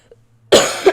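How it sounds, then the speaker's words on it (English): A single harsh cough from a game character, loud and close after near silence, ending with a short throaty tail. "Well, I coughed, didn't sneeze, but close enough."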